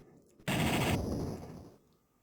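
A burst of gunfire in the retro game Flashback: a sudden loud blast erupts after a quiet start, then rattles into a dense sustained crackle that tapers off over about a second.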